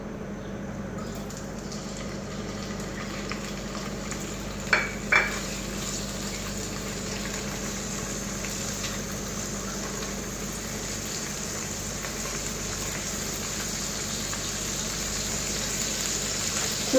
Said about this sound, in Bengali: এবার আমি চিকেনটাকে ভাজবো।